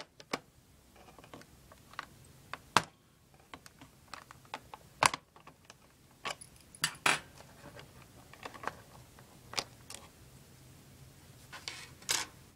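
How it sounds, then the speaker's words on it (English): A flat-head screwdriver prying up the keyboard of an IBM ThinkPad 2611-412 laptop gives a sparse series of sharp plastic clicks and snaps, close and fairly quiet, spaced irregularly with a few louder cracks. "Simply insert a straight edge screwdriver into the slot and pull upwards."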